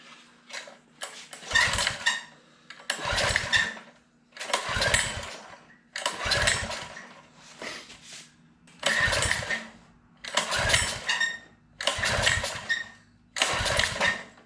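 A seized minibike engine that has sat for years is pulled over with a recoil starter again and again. About ten rhythmic cranking bursts come close and loud, separated by short pauses, and the engine never catches.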